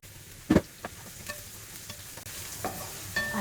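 Garlic and shallot are stir-fried in a hot wok for char kway teow, with a sharp clatter of the spatula followed by a steady sizzle and scattered scraping strokes, close and clear.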